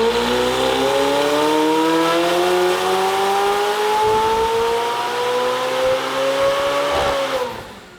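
A McLaren 720S running on ethanol winds up on a dyno, its engine note rising steadily and loudly for about seven seconds before cutting off abruptly, with no voices.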